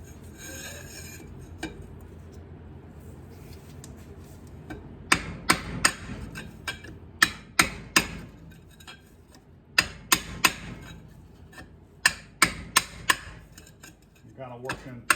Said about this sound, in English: I use a short pipe on this end to go ahead and knock that seal out